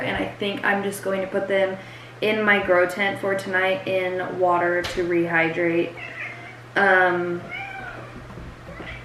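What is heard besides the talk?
cat meowing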